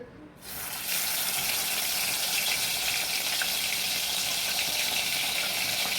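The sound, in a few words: fish frying in a pan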